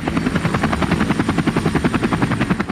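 A helicopter flying close by, its rotor blades chopping in a fast, even, loud pulse that fills the whole stretch without any voices.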